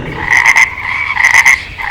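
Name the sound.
frog croaking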